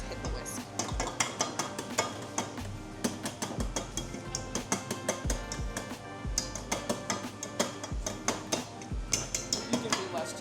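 A whisk knocked repeatedly against a bowl while making scoopable cheesecake, a rapid run of sharp metallic taps and clinks with brief pauses, voices talking over it.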